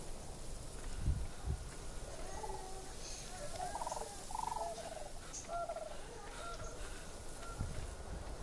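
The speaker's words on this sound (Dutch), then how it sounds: "Ik heb een kikker gehoord, maar ik zie hem niet." A frog croaks in the survival video game ARK, with faint, repeated calls set against a constant, hissy ambient background.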